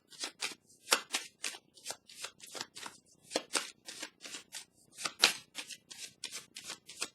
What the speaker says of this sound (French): Je vais piger une petite carte.